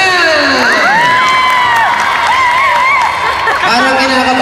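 A crowd at a dance contest in a mall cheers and shouts loudly and continuously, with high whoops and excited yells layered into a dense, close roar.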